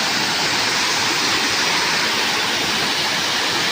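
Mandijhala waterfall roars with a steady, dense rush of falling water, loud and close, continuous with no voices over it.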